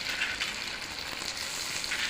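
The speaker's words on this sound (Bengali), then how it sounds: "এবার টমেটোগুলো আমি দিয়ে দিচ্ছি" Chopped tomatoes frying in a pan with half-fried, browned onion and garlic, giving a steady, close, even sizzle and hiss that runs unbroken for about two seconds with no voices.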